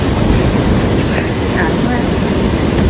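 A New York subway train gives off a loud, continuous rumble and roar that fills the whole stretch without clear breaks.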